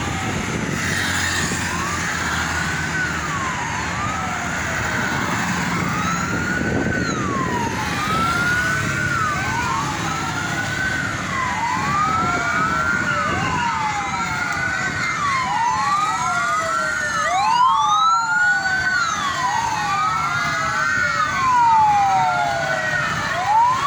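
A Damkar Banten fire engine circles nearby with its siren wailing continuously, rising and falling sweeps repeating throughout and growing slightly louder toward the end, over steady traffic noise.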